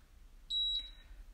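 A single short electronic beep from a home workout interval timer, clear but fairly faint against a quiet room hum.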